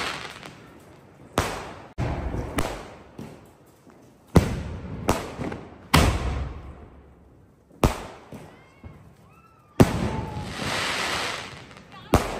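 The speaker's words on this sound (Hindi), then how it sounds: "तो अपने ऊपर चल रही है 120 की पेटी और अपन नीचे लगा जा रहे हैं स्काई शॉट।" Diwali fireworks at close range: a 120-shot cake firing overhead while sky shots are launched from the ground, giving repeated sharp bangs and crackling bursts with whistling streaks, loud and irregular, with fizzing between blasts.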